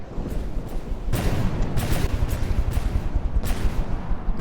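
Ship cannons firing shells in the naval combat game From the Depths, a rolling series of booming blasts overlapping into continuous heavy rumble, with sharper reports standing out at irregular intervals.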